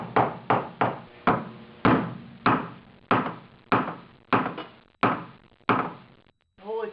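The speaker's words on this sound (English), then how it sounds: "Should just be able to tap this out with a hammer." Hammer striking a steel bolt on the steering linkage of a 1976 Mazda RX-5 Cosmo, about a dozen sharp metallic taps in a steady rhythm, close and distinct, ending with a brief pause.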